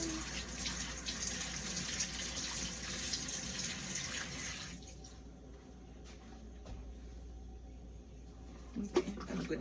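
Tap water runs steadily while hands are washed at a kitchen sink during rib preparation, a broad continuous splash that cuts off about halfway through, leaving quiet room sounds and a brief clatter near the end.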